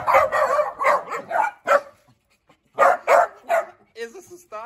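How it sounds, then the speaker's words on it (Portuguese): A dog barks close by in short bursts, a quick run of barks, a pause, then several more, ending in a higher whine or yelp. "O cachorro pulou aqui dentro"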